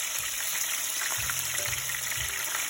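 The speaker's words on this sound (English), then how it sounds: "Get your tongs out, gently place it. Woo! See it fry it up." Breaded chicken for chicken parmesan sizzles steadily in hot oil, a close continuous frying hiss with faint low clunks of tongs beneath.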